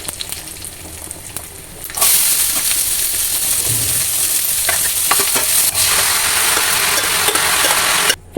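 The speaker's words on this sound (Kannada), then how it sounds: "ಕರಿಬೇವು, ಸಾಸಿವೆ, ಜೀರಿಗೆ ಮತ್ತು ಇದು ಇಂಗು ಇಷ್ಟನ್ನು ಹಾಕಿ ಒಗ್ಗರಣೆ ಹಾಕ್ತಾ ಇದ್ದೀನಿ" Green chillies, curry leaves, mustard seeds, cumin and asafoetida hit hot oil for tempering. After a quiet start, a loud, close sizzle erupts and holds steady, with small crackles and stirring scrapes until it cuts off.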